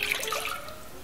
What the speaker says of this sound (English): I'm going to put 1 cup of water.